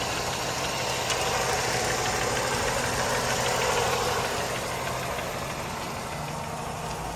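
A Mercedes-Benz 210 estate car's compressor engine running, a steady mid-pitched idle with an even knocking rumble, close and constant with no one talking.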